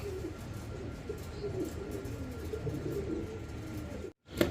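Old German Owl pigeons, a cream-bar hen and a black-bar cock, cooing steadily in low, soft rolling calls at close range, with a brief sharp rustle at the end and no talk.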